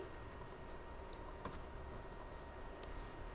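Quiet typing on a computer keyboard while entering Python code, with faint, sparse key clicks over a steady background hiss and no talking.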